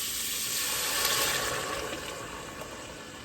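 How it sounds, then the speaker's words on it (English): Chicken stock poured into a pot for chicken noodle soup makes a steady splashing gush that sizzles slightly against the hot pot, continuous and close with no talking. "So I'm just going to pour this stock in."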